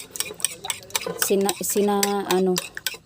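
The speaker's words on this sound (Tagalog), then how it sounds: "Haluin natin ang ating itlog" Eggs are whisked in a bowl with pepper, seasoning and salt for chicken strips, a quick rhythmic clicking and scraping of the utensil against the bowl while a voice talks over it.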